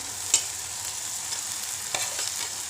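Dried shrimp (sukat) chutney frying in oil alongside softened tomato, a soft continuous sizzle broken by a few stirring scrapes and taps in the pan, with no speech.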